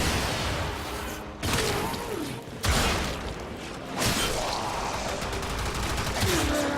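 Rapid gunfire from the video game Warframe, bursts of shots with whooshing movement sounds, fairly faint and mixed with game effects, short pauses between volleys.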